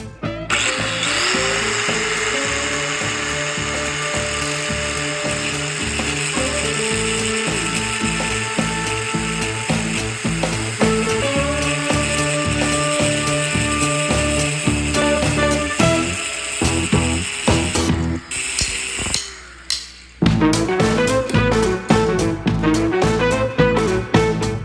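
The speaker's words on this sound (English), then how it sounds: "We're going to try to hollow grind this to make flattening a little easy." A dull file is hollow ground on a powered grinder to form a scraper, a steady loud whine with harmonic tones running continuously, shifting pitch briefly near the end before resuming.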